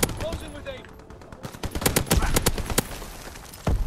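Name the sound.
Chatellerault LMG gunfire in Call of Duty WW2 video game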